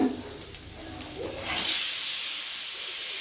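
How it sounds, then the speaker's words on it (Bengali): Potatoes fry in hot oil for a meat curry, a broad steamy hiss that swells suddenly partway through and then holds loud and steady, close by. "এখানে মাংসের জন্য আলুগুলো ভাজা হচ্ছে"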